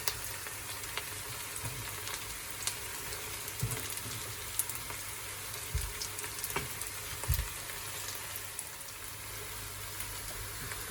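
Onion and garlic frying in a pan for stir-fry noodles, a soft continuous sizzle with scattered pops and scraping clinks from stirring, fairly quiet and close.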